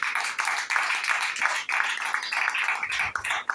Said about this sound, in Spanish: Dale un fuerte aplauso a Dios en esta hora.